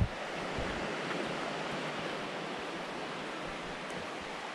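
River flowing beside an old bridle path near falls, a steady broad rushing wash of water, fairly loud and unbroken, with no voices.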